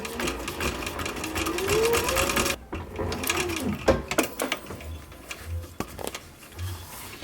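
A sewing machine stitches a seam on a military patrol cap, its motor whirring steadily for a few seconds and then breaking into shorter, uneven bursts of stitching, close and fairly loud with no voices.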